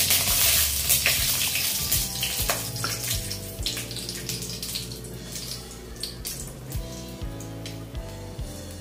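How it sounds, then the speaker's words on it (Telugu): Cinnamon, shahjeera, bay leaf and a dried chilli fry in hot oil for chicken biryani, a close, continuous bright sizzle with crackling bursts that eases slightly over time. "కొంచెం ఫ్రై చేసుకొని"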